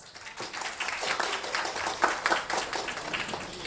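Audience applause at a Diwali celebration evening, a dense steady patter of many hands clapping at moderate level, with a faint voice or two underneath.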